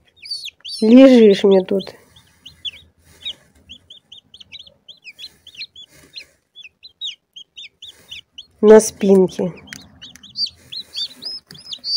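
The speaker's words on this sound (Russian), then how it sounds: "Вон, смотрите, там уже полным ходом вылазит цыпленочек." Newly hatched chicks in a homemade box incubator peep in a steady run of short, high chirps close by, while someone talks softly over them at the start and again near the end.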